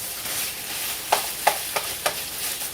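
Cubed ingredient being stirred and melted into a slow cooker beef and scalloped potato casserole over medium-low heat, a steady soft hiss broken by four or five short scraping clicks of the spoon, close by.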